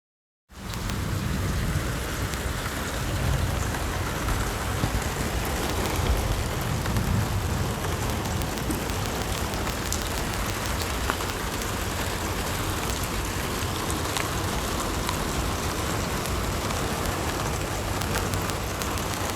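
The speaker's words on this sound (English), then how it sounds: "the rain stopped, thankfully, for a little bit" Steady rain falls on a Corvette outdoors during car detailing, making a dense, continuous patter and hiss that stays even from start to finish. No voices are heard.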